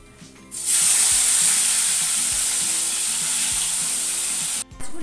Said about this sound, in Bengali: এই এক এক করে মাছগুলো ভাজতে দেবো।